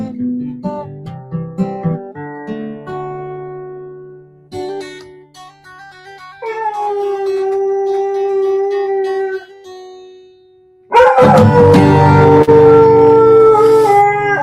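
A dog howls along with a person singing a slow folk song, the drawn-out canine wails rising and falling over the voice, with a louder burst of howling and singing together near the end.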